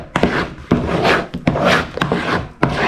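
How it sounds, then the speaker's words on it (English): A spatula scrapes around a mixing bowl of vanilla cake batter, giving repeated close, rasping strokes with short sharp knocks between them and no voices. "making sure that I've scraped the bowl like this"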